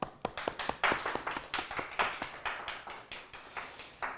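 Volunteers at the launch ceremony for the 2022 Goyang World Taekwondo Poomsae Championships clap in welcome, a steady run of crisp, fairly close claps lasting several seconds without speech.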